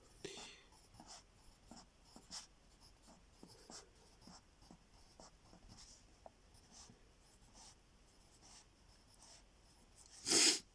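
A pen writes numbers in short, scratchy strokes while a math teacher works through a coordinate geometry lesson. The quiet strokes repeat steadily, and a louder rustle comes near the end.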